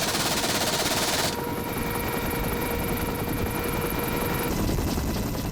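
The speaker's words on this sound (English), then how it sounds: "it has recently acquired a new half-inch caliber machine gun for use against fast-moving craft." A Mark 8 Lynx military helicopter fires a half-inch caliber machine gun. Rapid bursts sound over the steady, loud thrum of the rotors.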